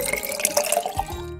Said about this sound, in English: we're gonna put this over a faucet, fill it up till it's about the size of a softball